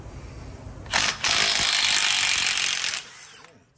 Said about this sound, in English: Let's see if we can get those nuts off with the 3/8 stubby 550 torque.